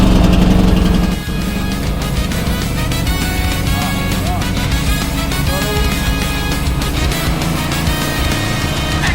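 A small excavator's engine, with its choke pulled out, fires and settles into a steady, loud, close mechanical running drone after a brief louder burst at the start.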